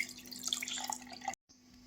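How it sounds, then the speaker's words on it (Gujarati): Water poured from a small bowl into a mixer grinder jar while making gathiya, a close, continuous splashing trickle that breaks off abruptly near the end, then a faint hiss resumes. "એ જ વાટકી ભરીને પાછું આપણે નાખવાનું છે પાણી"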